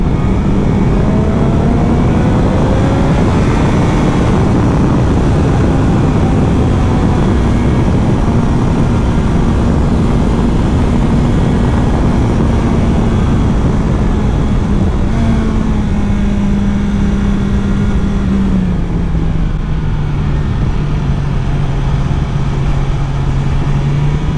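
BMW S1000XR 2021 motorcycle engine revving high and pulling hard through the rev range, a loud continuous drone with rising and falling pitch and steady wind noise, no talk.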